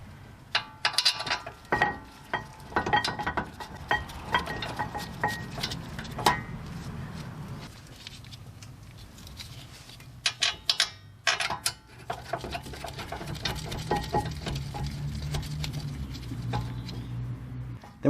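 Rear brake caliper bracket on a 2018-2024 Buick Enclave or Chevy Traverse being fitted back in place: scattered metallic clinks, taps and bolt rattles, quiet and close, with pauses between bursts.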